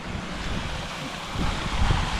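Gusty wind sweeping outdoors beside a stream as a storm builds, a loud continuous rumbling roar that swells toward the end, with no voices.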